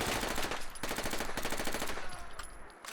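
An MP5 submachine gun in Fallout 4 fires in rapid, sustained automatic bursts, loud and close, with a brief break before the shooting resumes.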